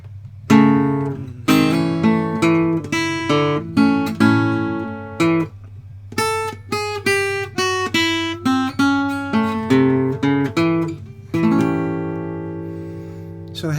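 A blues guitar plays an ending lick with a descending chromatic line, sharply plucked notes and chords in clustered phrases with short pauses, loud and close with no voices.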